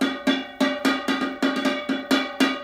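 A spoon strikes a small tin can about a dozen times in a quick, steady pattern, each hit a sharp, close metallic clink with a short ring, played alone.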